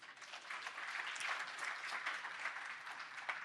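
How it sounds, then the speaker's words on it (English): An audience at the Little Tokyo/Arts District station dedication press briefing claps in sustained, dense applause, fairly close and steady for several seconds with no talk over it. "So give yourselves a big round of applause."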